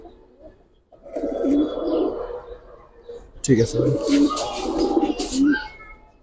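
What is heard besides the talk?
Giribaz pigeons cooing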